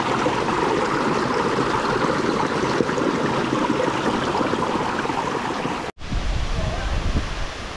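Houdongkeng Falls in Yilan pours in a steady, loud rush of falling water, a dense broadband roar that cuts abruptly near the end to a closer, windier wash of water.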